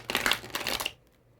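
A deck of tarot cards is shuffled by hand, giving about a second of close, crisp riffling and crackling that then stops abruptly into near silence.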